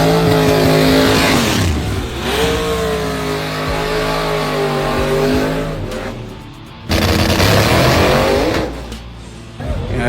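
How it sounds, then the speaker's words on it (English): Radial drag race car engine at a Texas drag strip, revving hard with rough, popping backfires, loud and close, dipping briefly before a second surge of revs. "it's making it backfire"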